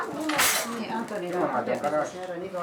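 Dishes and a coffee pot clink and clatter as the pot is washed out, scattered bright knocks close by, with talk over the clinking.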